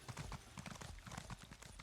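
Horse mount in the Morrowind video game, hooves clip-clopping in a quick, steady walking rhythm, close and moderately loud with no talk over it.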